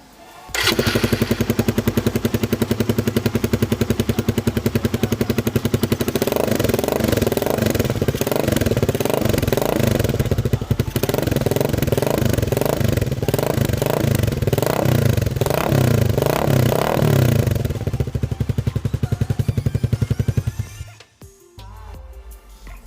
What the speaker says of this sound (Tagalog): Sound test ng may silencer.